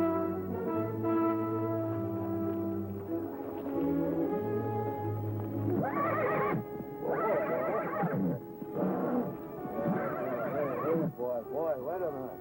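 A horse whinnies loudly with a long, wavering call, followed by several shorter excited neighs, close and prominent.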